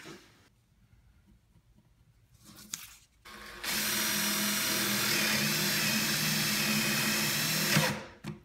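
A power drill bores holes into a Borderlands tomahawk prop, a loud, steady whirring grind that starts abruptly after a quieter stretch of handling and stops sharply near the end.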